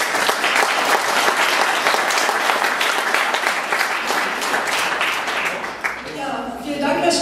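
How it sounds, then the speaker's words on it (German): Steady, dense applause from an indoor audience at a cultural dialogue event, filling the whole clip at an even level, with a few scattered claps standing out near the end as it begins to thin. "Einen herzlichen Applaus bitte."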